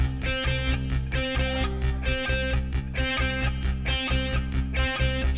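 Full-band Britpop song playing loud and steady with pounding drums, driving bass and bright layered guitars and keyboards, no voice standing out.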